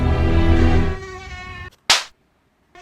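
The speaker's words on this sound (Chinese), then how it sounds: "总是有讨厌的蚊子飞来飞去" Insect wings whine in a sustained, close buzz for about a second and a half while mosquitoes fly around at an outdoor summer campsite, then fade; a brief loud swish and silence follow.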